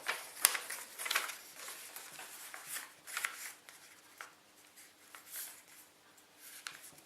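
A sheet of paper folded and creased by hand into a flower shape: a close series of crisp rustles and sharp scraping swipes at an uneven rhythm, faint overall, with no talking.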